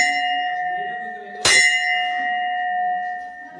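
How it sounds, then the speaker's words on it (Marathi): A metal bell at an ancient Shiva temple rings near and loud. A single sharp strike sets off a bright, sustained ringing tone that lingers and slowly fades, with faint voices behind it. "हे बघा कसं मस्त घंटा घालत ते"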